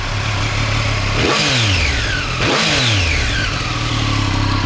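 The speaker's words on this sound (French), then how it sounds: "quand tu ouvres les gaz en grand, il y a un son qui provient de la boîte à air" A motorcycle engine revs hard twice to high pitch at full throttle, with intake sound from the airbox, and falls back between bursts, loud and close throughout.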